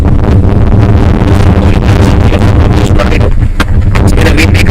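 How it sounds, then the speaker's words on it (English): Strong wind buffets the microphone at an outdoor cricket ground during a live match, a loud, continuous roar and rumble with gusty fluctuations and no clear voices. "It's in a windy condition, you can hear the sound"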